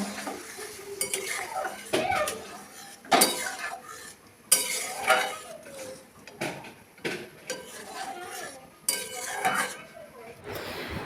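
Dishes and cutlery clatter and clink while a school lunch tiffin box is packed in a home kitchen, with repeated sharp knocks of utensils against containers and a faint sizzle from the stove behind.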